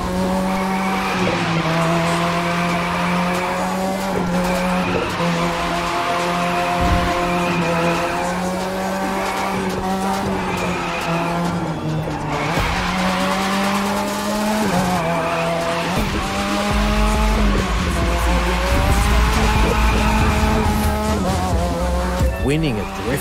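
Cars drifting in the racing video game The Crew 2, with engines wailing through rising and falling revs and long tire squeals sliding in and out, loud and continuous throughout.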